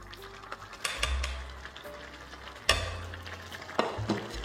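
Ground masala being stirred into beef chukka in a pan, with a soft sizzle under several sharp scraping and clanking strokes of a spoon against the metal, close by and irregular.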